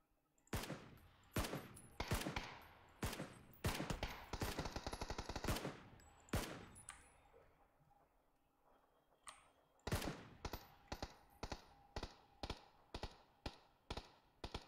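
Gunfire in a video game arrives as loud bursts of rapid automatic shots and single sharp reports, separated by short pauses, with a quieter stretch in the middle before the firing picks up again.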